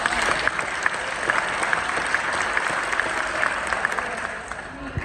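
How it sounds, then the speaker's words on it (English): Steady applause from an audience at a Lee County Schools transportation meeting with bus drivers in Lehigh, Florida, dense and even throughout, with voices murmuring underneath. "please don't clap through this for me so I can continue to talk"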